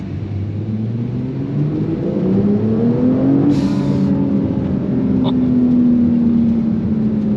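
A Brabus Porsche 911 Turbo S tuned to 820 hp pulls hard under launch control, a loud rumbling engine note climbing and shifting steadily, heard from inside the car.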